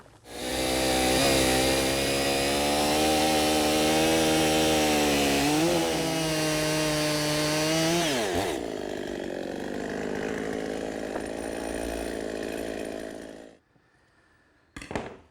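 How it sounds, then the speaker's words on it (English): A chainsaw roars at full throttle, bogging down as it cuts bowl blanks from a log, then idles lower before cutting off near the end. "I'm just going to use my chainsaw to cut a couple blanks"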